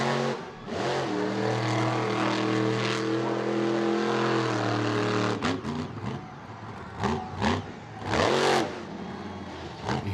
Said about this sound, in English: Hear the truck popping and cracking a little bit